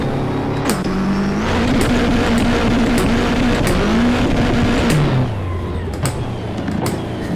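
A 500,000 horsepower double decker bus in Assetto Corsa, its engine roaring steadily and loud, the pitch holding then climbing in stepped surges through the gears before easing off near the end.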